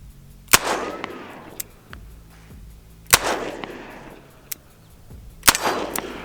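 Smith & Wesson 686 Competition revolver fired double-action, three sharp loud shots spaced a few seconds apart, each with a ringing echo tail and faint clicks between.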